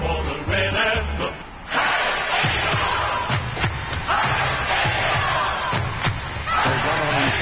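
A football crowd in a stadium roars and cheers steadily as the players run out before kickoff, a dense, loud wash of voices with scattered thumps and shouts.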